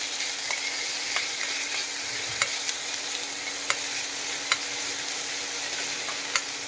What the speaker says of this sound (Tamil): நல்லா கொதிக்கிட்ட எண்ணெய்.